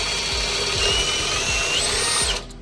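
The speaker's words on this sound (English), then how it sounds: "Use your big drill bit to mark through the holes." A power drill spins a big bit against a metal front rock slider bracket for a 2019+ Ford Ranger, one steady close whine lasting over two seconds and then cutting off abruptly.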